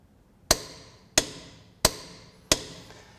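A Milwaukee M12 FUEL right angle impact wrench tightening delivers four sharp, loud metallic strikes, evenly spaced about two-thirds of a second apart, each ringing briefly before the next, with no talk.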